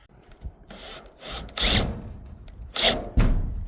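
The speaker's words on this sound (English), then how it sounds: "I'll probably put 1, 2, 3 screws in there, hold it in place, make it look all finished" A power drill drives a few screws to fasten a part during a ductless mini-split installation, short whirring bursts separated by pauses, close and fairly loud.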